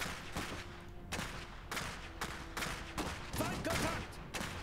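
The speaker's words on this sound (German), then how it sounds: "Schuss!" Gunfire in the strategy video game Iron Harvest, a string of loud sharp shots repeating at fairly regular intervals over rumbling battle noise.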